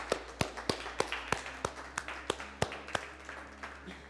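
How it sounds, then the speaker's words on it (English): Clapping at a motivational talk: a thin, even run of sharp hand claps about three per second, faint and sparse as if from only a few people, continuing without voices. "Round of applause, please."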